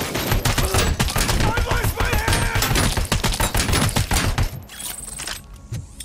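Rapid bursts of video game gunfire from a special gun, loud dense shots in quick succession, thinning out into scattered sharper cracks toward the end.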